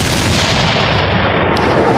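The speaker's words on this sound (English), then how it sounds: "Fire them cannons as we shall." Cannon fire sound effect as a dense, loud, continuous roar of booming blasts with no pauses, heard alone throughout.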